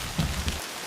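Rain pattering as a soft, steady hiss during a backpacking tramp in Tongariro, with a couple of brief thicker splashes before it drops away to near quiet.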